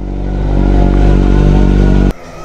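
A loud, close motorcycle engine runs steadily with a rough, rising drone for about two seconds, then cuts off abruptly, leaving only quiet background.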